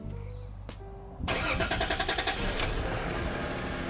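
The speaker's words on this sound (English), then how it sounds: "Let's go ahead and start the car one more time." A Toyota Aristo with a stock twin-turbo 2JZ engine starts from cold. A quiet lead-in gives way to a quick, rhythmic cranking chatter that catches into a steady, close idle without revving.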